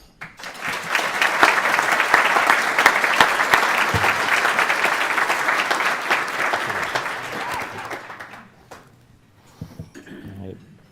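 Audience applause at a City Club of Cleveland gathering welcoming a speaker, a dense sustained clapping from a sizable crowd lasting about eight seconds before tapering off, followed by a few quiet sounds.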